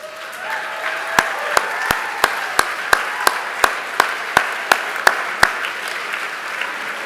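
An audience at an opening university convocation applauds the new students standing up, a steady wash of applause with one pair of hands clapping sharply and evenly near the front throughout.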